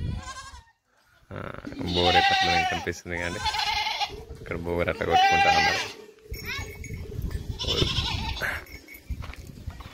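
Small goats bleat repeatedly in a village, several clear cries standing out over steady talk between people and some background rustle.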